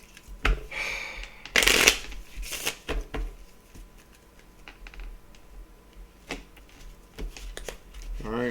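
A deck of oracle cards shuffled up close, with crisp riffling bursts and quick flutters, then lighter taps and shuffles. No words are spoken.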